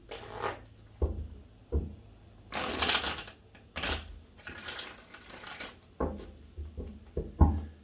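Close-up tarot card handling: several short snaps and taps with two brief riffling bursts in between, irregular and fairly quiet, no talking.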